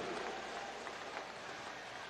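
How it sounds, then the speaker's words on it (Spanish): A crowd at a socialist party swearing-in rally in La Guaira applauds, a faint, distant wash of steady clapping that sounds almost like rain and continues without a break. "Un aplauso a Greila"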